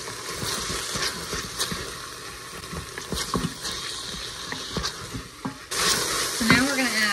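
Seasoned ground beef sizzles and crackles in a pan with steady frying hiss, stirring scrapes coming and going, and a brief voice in the background.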